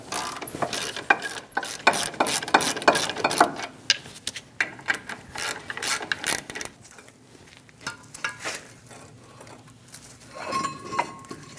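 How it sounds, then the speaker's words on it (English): A ratchet with a 21mm socket loosens the two brake caliper bolts on a 2001-2006 Chevrolet Silverado 2500 HD, giving rapid close clicking bursts that pause, then resume more faintly. "Using a 21mm socket, remove the two caliper bolts."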